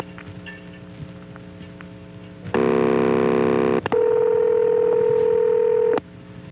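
Telephone dialing tones on a trunk line from a 1976 step-by-step exchange in Rawlinsville, Pennsylvania: a harsh buzzing burst followed by a steady, loud single tone lasting about two seconds, over a constant low line hum.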